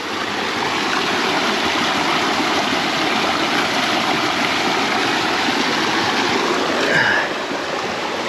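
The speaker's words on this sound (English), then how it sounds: "And hear this water." Water rushing steadily along a stream beside the Glen Falls trail, a continuous broadband wash that stays loud and close throughout, with no talking.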